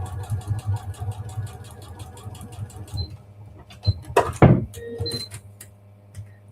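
A sewing machine stitches a paper pieced quilt block, its steady mechanical whir running for about three seconds before stopping, followed by a few short bursts of closer handling clatter and fabric rustle.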